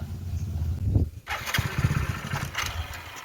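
A new motorcycle engine cranked and fired up nearby, a short starter whine followed by the engine catching and running with an uneven, throbbing idle.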